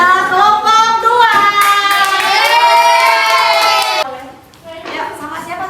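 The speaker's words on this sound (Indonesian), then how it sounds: "Tepuk tangan dulu untuk kelompok 1." A classroom group claps and cheers for the first student group, children's voices shouting over steady applause that fades briefly near the end before picking back up.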